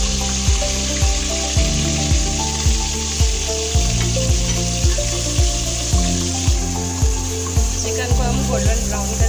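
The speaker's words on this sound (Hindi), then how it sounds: "चिकन को हम गोल्डन ब्राउन करेंगे। अच्छे से इसको फ्राई करेंगे।" Chicken frying in hot oil for a spicy achar-style dish gives a steady sizzle and crackle throughout, under a beat-driven music track with a regular rhythmic thump.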